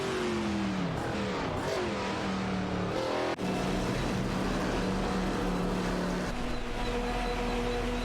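Engine note of a Maytech Ford GT race car in a racing video game, a loud, steady revving drone that rises and shifts pitch with gear changes, with other cars close behind.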